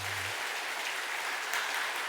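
A church congregation applauds after a special music performance at a Sunday service, a soft steady patter of clapping throughout.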